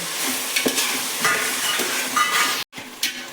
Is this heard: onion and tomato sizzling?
yes